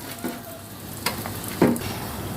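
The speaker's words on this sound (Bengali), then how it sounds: "এখন আস্তে আস্তে করে এক এক করে দিয়ে দিচ্ছি আরব দেশের পেঁয়াজু, যেটার নাম ফালাফেল।" Chickpea falafel balls frying in hot oil, a continuous soft sizzle with a few sharp bursts as each piece is dropped in, the last one the loudest; no voices.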